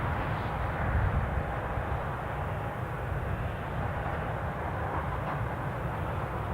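A Boeing 737 airliner at Newcastle International Airport gives off a steady, broad jet engine roar at middle distance, unbroken throughout, with no voices over it.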